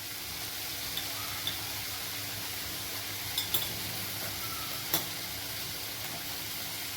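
Tomato and salt go into masala frying in a pan, giving a steady soft sizzle with a few light clinks of a spoon against the pan.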